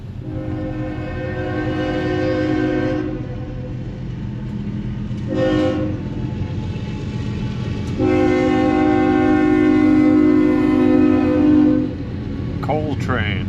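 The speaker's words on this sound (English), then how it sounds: "Coal train." A coal train horn blows in long, loud sustained blasts beside the Mississippi River near the Blackhawk Bridge, two main blasts with a brief one between, over the steady low rumble of the passing rail cars.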